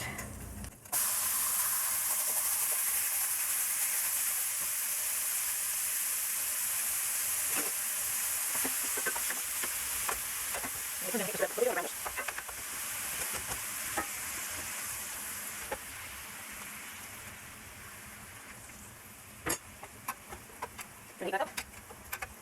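Lean ground beef sizzles and fries steadily in a pan, a broad continuous hiss with occasional stirring scrapes and crackles, loud and close throughout.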